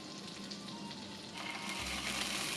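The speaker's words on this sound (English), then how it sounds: "you want to get it to a good sizzling point" Garlic and butter sizzle steadily in a hot pan, a continuous crackling hiss that holds close and even throughout, growing slightly louder toward the end, with no voices.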